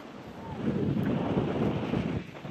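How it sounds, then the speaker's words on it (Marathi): Steady wind gusts over the microphone at Akshi beach in Alibag, a broad, constant roar with the sea in the background and no voices. "वारा पण मस्त सुटलाय"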